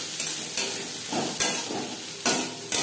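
Onions frying in a pan with turmeric and salt for a Bengali ridge gourd and prawn chorchori, a steady close sizzle with a few sharp stirring scrapes, no voices.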